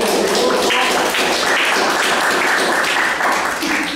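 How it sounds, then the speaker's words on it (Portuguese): A class applauds continuously, a dense steady clatter of many hands clapping at once, loud and close throughout. "palmas aí"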